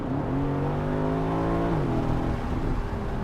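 An Aston Martin DB11 Volante engine, exhaust baffles open, revs hard, pitch climbing steadily, then shifts and keeps pulling, with a deep throaty roar throughout.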